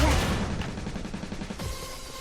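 Dense automatic gunfire from a video game, a rapid rattling burst that rolls on loudly and continuously before easing slightly near the end.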